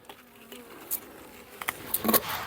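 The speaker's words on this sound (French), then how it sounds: "on brosse les abeilles" Honey bees buzz faintly as they are brushed off a hive frame during a honey harvest, with a few soft brushing pats and brief louder swells near the end.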